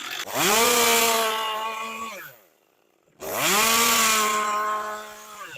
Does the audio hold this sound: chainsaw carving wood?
yes